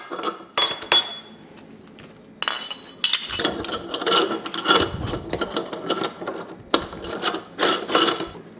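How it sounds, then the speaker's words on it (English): Metal parts of a sausage stuffer clink and ratchet while its stuffing horn is fitted. The sharp clanks and clicking bursts come close up in an uneven rhythm, and no one speaks. "let's install our horn"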